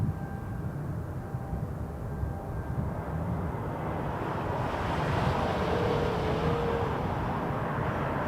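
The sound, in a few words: EgyptAir Boeing 787-9 Dreamliner taxiing for departure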